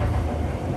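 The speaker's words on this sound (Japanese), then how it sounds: "鶴橋を発車しました。 先ほど乗車した急行と並走します。" Kintetsu Osaka Line semi-express train running just after departing Tsuruhashi station, a steady loud low rumble of wheels and motors heard from onboard, continuous with no talking.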